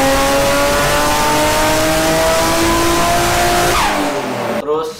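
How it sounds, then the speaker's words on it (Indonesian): A turbocharged 2JZ-swapped Nissan Silvia drift car revs hard up close with a sustained high engine whine and tire noise, falling off sharply at the end. "Terus suaranya juga gue lebih suka suara mobil Jepang yang turbo. Kayak Zico punya 2JZ Silvia,"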